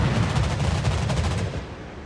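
Anti-aircraft fire from warships in a naval video game with the battleship Musashi, a rapid, continuous rattle of guns pounding close and loud before fading slightly at the end.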